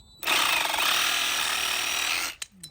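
A Sawzall reciprocating saw cuts through aluminum door weather stripping in one loud, continuous burst of harsh buzzing that lasts about two seconds, then stops abruptly, leaving a few faint clicks.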